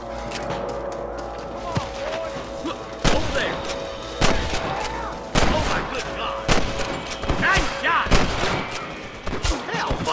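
Gunfire from a shootout in the western video game Red Dead Redemption, a series of sharp shots and volleys with irregular spacing over a continuous hum, as voices talk in between.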